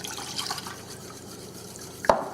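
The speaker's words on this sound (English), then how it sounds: "beat the egg and add the water" Water is added to beaten egg for a Japanese steamed egg custard (chawanmushi). Mostly quiet, then a single brief, sharp splash near the end.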